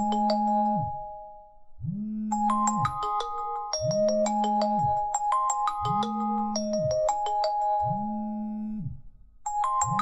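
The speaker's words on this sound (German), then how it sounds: "die Telefonnummer kenne ich überhaupt nicht, die mich hier anruft" A phone rings with an incoming call from an unknown number, a repeating electronic ringtone melody cycling in steady bursts, loud and close with no talking.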